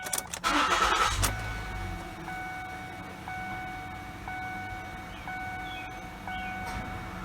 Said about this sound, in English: Go ahead and turn the car on